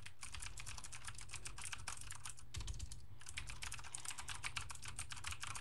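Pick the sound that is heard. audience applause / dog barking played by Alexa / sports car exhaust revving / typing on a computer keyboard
typing on a computer keyboard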